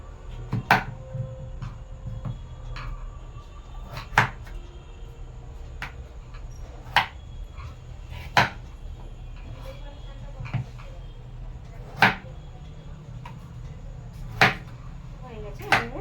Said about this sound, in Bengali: আমি এবার পিস পিস করে কেটে নেব।